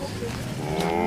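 Cows recently acquired on a farm in Austria's Burgenland low in a couple of short moos, close by, mixed with ongoing farmyard noise and people talking.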